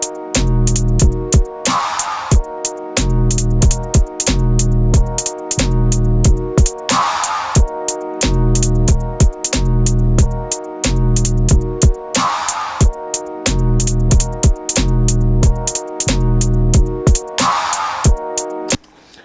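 A looped electronic drum beat built in Ableton Live, with a booming kick and snare trading off against a chopped piano sample that cuts each other short, repeats in a steady, loud, close pattern of regular bars.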